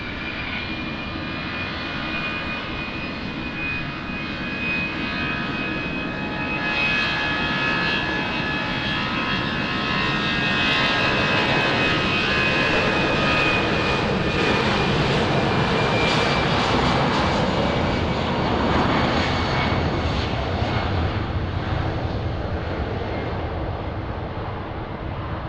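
A fixed-wing airliner approaches and lands at Lisbon Airport, its engine roar a loud, sustained drone that swells slightly midway and holds steady with a broad rushing whine throughout.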